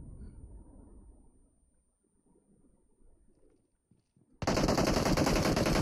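Machine gun fire in PUBG Mobile bursts in loud and sustained after several seconds of faint low rumbling, filling the rest of the moment with dense, rapid shots.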